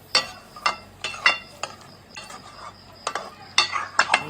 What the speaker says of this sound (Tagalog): Ayan, haluin ulit natin.